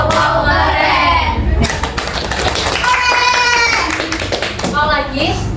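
A group claps the rhythmic 'tepuk wow' pattern during a group counseling session, a burst of sharp, quick hand claps in the middle of the clip, with children's voices chanting and talking around it.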